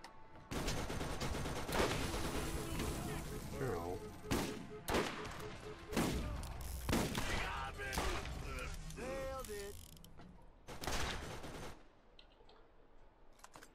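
Turret gunfire in Borderlands 2 during the Claptrap robot revolution DLC: dense rapid bursts of shots and heavy impacts repeat for several seconds, loud and close, over game music and effects.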